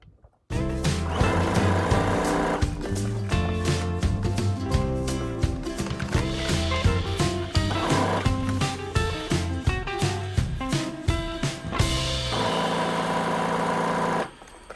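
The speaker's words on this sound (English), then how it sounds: "now what I'm going to do is just straight stitch around this right sides together" A sewing machine straight stitches a binding strip to a garment neckline, right sides together, in one long close run of rapid rhythmic needle clatter with brief changes in pace before stopping.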